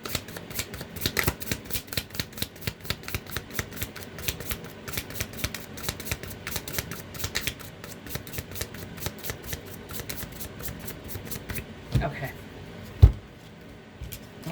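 Rapid rhythmic riffling of a tarot card deck being shuffled close by, a long run of crisp flicks, then a few knocks and a brief spoken word.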